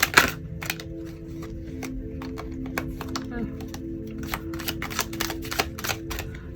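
Tarot cards are shuffled close by, making a quick stream of crisp, uneven flicks and clicks against a low background hum.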